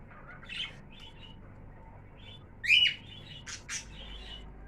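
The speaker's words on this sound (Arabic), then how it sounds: "زي ما احنا شايفين البادجي كده." Pet budgerigars and cockatiels kept as cage birds give sparse chirps and a louder squawking call over quiet background, a few short bursts at close range with no speech.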